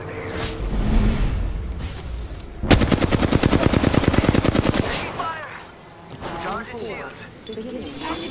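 Rapid automatic gunfire in the battle royale game Apex Legends, a loud sustained burst of evenly spaced shots lasting about two seconds, with game character voices talking before and after amid scattered effects.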